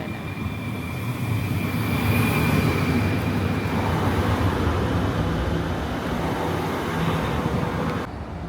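A train in Kaohsiung, Taiwan rumbles along at close range, a loud continuous roar of wheels and cars with a faint high whine, steady for most of the stretch before it cuts off near the end.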